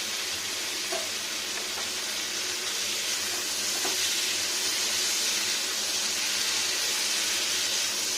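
Paneer and mixed vegetables fry with cumin paste in a hot pan, giving a steady, close sizzling hiss that runs unbroken throughout, with faint stirring and no voices.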